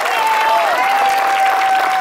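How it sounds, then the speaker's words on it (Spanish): An audience at a live tango performance applauds loudly and without a break, with a held musical tone running over the dense clapping. "El aplauso no es para mí, es para el pibe que no la sabía"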